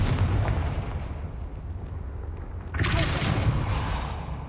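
A Confringo blast spell in Hogwarts Legacy erupts as a sharp burst that lifts above a dense, continuous roar of battle noise and then lingers as a rumbling wash.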